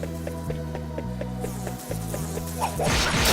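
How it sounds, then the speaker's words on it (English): Buzzing bees in the video game Ys: The Oath in Felghana, an insect-like drone layered over steady game music with synth tones, ending in a louder burst of noise. "Bees! Bees everywhere!"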